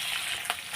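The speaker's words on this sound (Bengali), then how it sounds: "তা পেঁয়াজটা ভেজে নিই লাল লাল করে" Onion and garlic frying together in a hot pan, a steady broadband sizzle with a brief louder burst of stirring midway, close and continuous with no talking.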